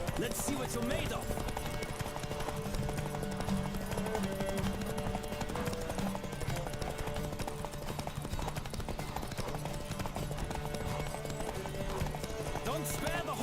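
A horse gallops in a race in The Witcher 3, its steady clip-clop of hooves running on throughout, mixed with game music and effects while voices shout over it.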